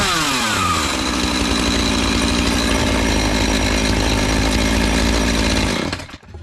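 A Husqvarna chainsaw held at steady high revs for several seconds to push fresh oil through the chain, loud and close, in extreme -40 cold, then cutting off abruptly.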